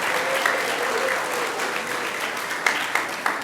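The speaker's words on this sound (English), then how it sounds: "Let's give Miss Olson and her class a big round of applause." A school audience gives sustained applause for a fifth grade class at a graduation ceremony, dense steady clapping with a few sharper individual claps standing out near the end.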